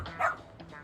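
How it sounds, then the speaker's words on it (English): A dog barks in the video game Lost Judgment, a single short bark followed by a couple of softer yips, close and clear. "So, you're Masawa's dog, huh?"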